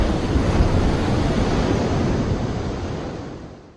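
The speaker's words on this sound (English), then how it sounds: "Ah, the ocean. How serene." Ocean waves wash in a steady, loud, broad rush of surf close by, slowly fading toward the end, with no voices.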